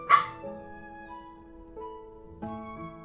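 Cartoon dog barks from the Little Witch in the Woods video game, a sharp yip at the start followed by tonal whimpering and whining, fairly quiet and alone.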